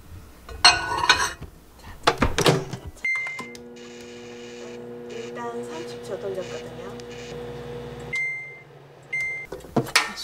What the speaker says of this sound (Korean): 이거는 전자레인지에 1분 30초 돌려서